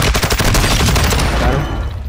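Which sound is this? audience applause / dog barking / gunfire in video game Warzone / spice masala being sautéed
gunfire in video game Warzone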